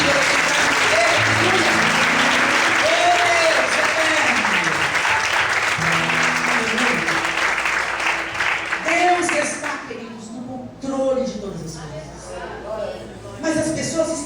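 Loud, sustained applause fills a church, a dense wash of clapping under a speaker's amplified voice and an audience shout, thinning out toward the end.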